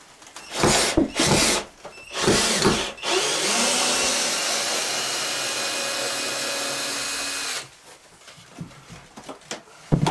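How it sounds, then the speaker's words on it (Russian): A power screwdriver backs screws out of a wooden wall board in a sauna, with a few short loud bursts followed by a sustained whirring run, then light handling clatter. "Давайте вот эту вот открутим."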